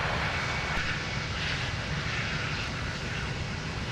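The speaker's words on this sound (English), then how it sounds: "Rapid fire departures, of which we can't really see. We can hear them though." A departing airliner at Minneapolis-Saint Paul airport produces a steady, broad jet-engine roar that holds at an even, fairly loud level throughout, with no talk over it.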